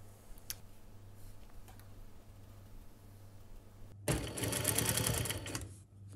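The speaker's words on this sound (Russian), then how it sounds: "Здесь мы прокладываем строчку на расстоянии от края 1 сантиметр." A sewing machine stitches a seam through two layers of coat fabric, a burst of fast, even mechanical whirring and clattering close up for about two seconds after a quiet stretch of faint clicks.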